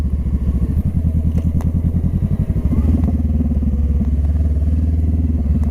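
Motorcycle riding down into a picnic area, a close, loud engine with a rapid thumping low putter that steadies into a smoother, fuller drone partway through, with light clatter on top and no talking.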